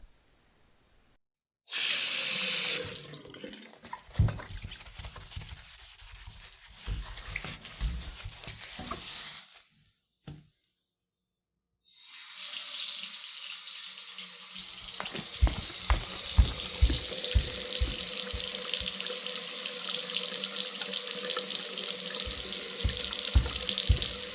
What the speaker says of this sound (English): I'll run this water a bit for you